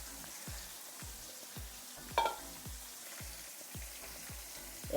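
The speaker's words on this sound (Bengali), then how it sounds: "তো মাছটা ভাজা হোক।" Katla fish fries in oil with a soft, steady sizzle, joined by a few louder pops and clatters of a utensil, at moderate distance with no talk.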